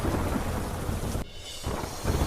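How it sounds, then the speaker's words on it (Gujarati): Heavy downpour in Surendranagar, Gujarat, a dense steady roar of rain with deep thunder rumbling through it, loud and continuous apart from a brief lull midway. "ગાજવીજ સાથે ધોધમાર વરસાદ"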